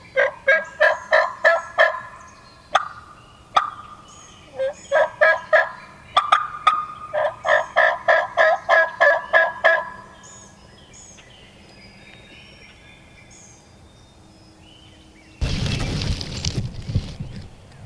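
Wild turkeys gobble repeatedly in rapid bursts at a moderate distance outdoors, several calls overlapping in a rhythmic series before a short burst of broadband noise near the end.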